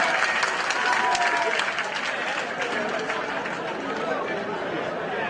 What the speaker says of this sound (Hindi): जोरदार ताली के साथ में